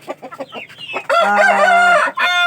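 Belgian Shamo heritage rooster crowing loudly and close, a strained two-part cock-a-doodle-doo following a few soft clucks and chirps from the flock.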